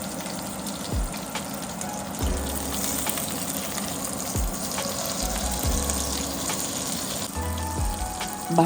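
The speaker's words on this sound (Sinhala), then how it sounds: "බටර් චිකන් එක හදන්න චිකන් බ්‍රෙස්ට් මේ වගේ යන්තම් රන්වන් පාට වෙනකම් බැදගත්තාම ඇති." Chicken breast frying in a pan until lightly golden for butter chicken, a soft steady sizzle with occasional low thumps and clatter of handling, no one talking.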